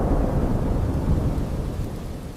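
Heavy rain pours steadily while thunder rumbles low and continuous, loud and close, with no voices.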